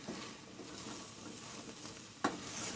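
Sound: stirring bulgur pilaf with butter in a pot

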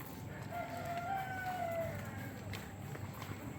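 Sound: chicken rooster crowing

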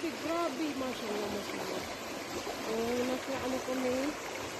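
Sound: river stream flowing

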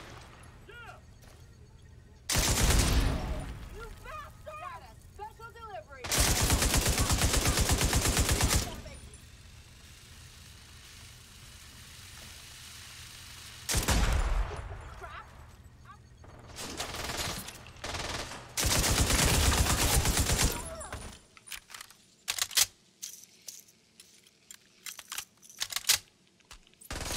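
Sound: rapid gunfire in The Division 2 video game

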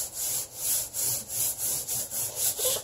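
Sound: scrubbing tile grout with floor cleaner

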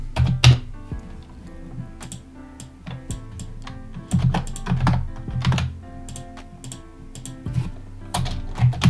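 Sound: typing Dart code on a computer keyboard

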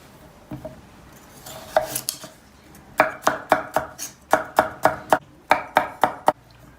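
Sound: chopping onions with a knife

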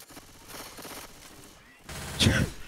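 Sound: gunfire in the video game Left 4 Dead 2

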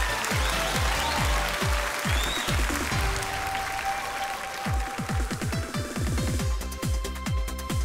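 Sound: audience applause welcoming a pageant contestant

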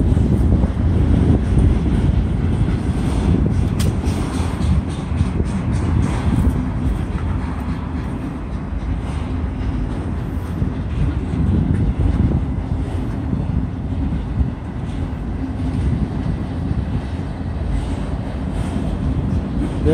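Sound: slow westbound CSX autorack freight train passing

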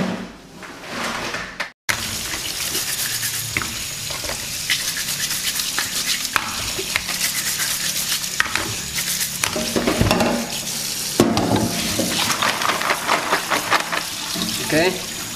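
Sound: washing freshwater clams under running water

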